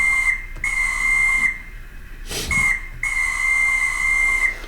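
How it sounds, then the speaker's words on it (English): A model train caboose air whistle sounds loudly and steadily in two long blasts, split by a short burst of hissing air, with a faint hiss underneath. "the air whistle, the conductor."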